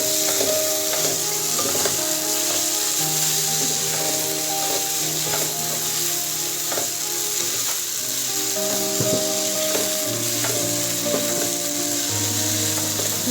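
Masala powder is stirred into a frying chicken biryani mixture, with a loud constant sizzle and scraping strokes under a tonal background melody, without speech.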